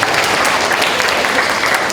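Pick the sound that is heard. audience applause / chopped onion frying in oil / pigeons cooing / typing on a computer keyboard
audience applause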